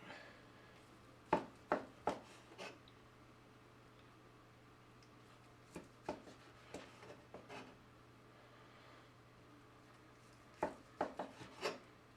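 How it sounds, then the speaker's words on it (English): A knife slices through a red currant glazed ham in short rasping strokes, three quiet clusters of cutting scrapes separated by pauses over a low steady hum. "So just choose a nice looking place and start slicing."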